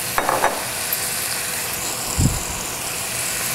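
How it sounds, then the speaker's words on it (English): Chicken going into hot olive oil in a pan, giving a steady broadband sizzle throughout with a couple of brief clatters early and a low thump from the pan midway, close and without speech. "I'm heating up some olive oil in this other pan, and I want to get the chicken going in here"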